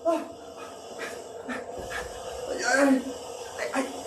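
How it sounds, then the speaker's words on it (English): A large dog pants on stage during a theatre production, a few breathy rhythmic bursts close by, with actors' voices and stage sounds mixed in around it. "There's an enormous dog inside that shed."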